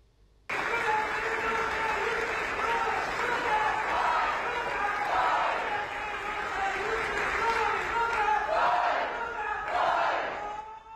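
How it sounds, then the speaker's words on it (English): A crowd in Woodburn, Oregon cheers and applauds as a teacher is surprised with a Teacher of the Year honor. The applause starts abruptly and holds steady and fairly loud throughout, with whoops and voices mixed in. "So they're cheering for Rosa Floyd"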